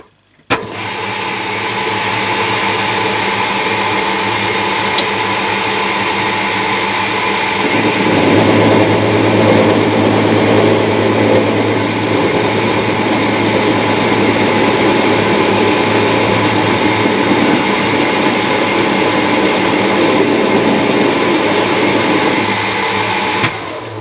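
A lathe turns down a threaded rod for a rear LED bullet motorbike indicator, with a steady high motor whine and a rougher, louder cutting texture that starts a few seconds in and continues until near the end.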